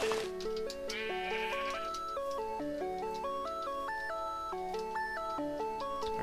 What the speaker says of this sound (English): Ninja sheep.